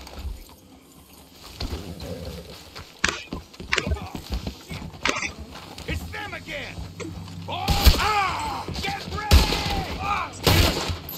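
Horse hooves clip-clop on the ground in the Western video game Red Dead Redemption 2, uneven hoofbeats running throughout alongside other game sounds and some voices.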